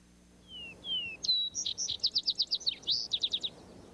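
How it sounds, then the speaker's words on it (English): Brewer's sparrow singing a complicated song alone: a couple of thin slurred notes, then a rapid series of chips and churring trills, clear and fairly close against a quiet background. "complicated song of churs and chips and trills"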